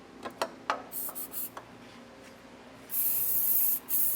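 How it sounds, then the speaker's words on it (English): Several short scraping clicks, then a loud steady hiss of silicone lubricant spray lasting about a second, briefly cut off and resumed near the end. "I'm going to take some silicone lubricant and we'll just spray that in there"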